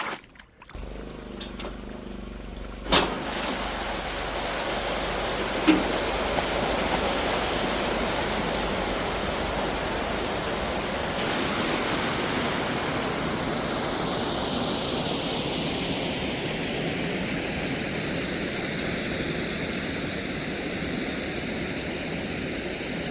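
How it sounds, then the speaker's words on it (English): Flood water drains out through open valves in a steady, loud rushing roar, a continuous broadband wash that holds unbroken for over twenty seconds after a brief quieter start. "So I'm letting the water off now."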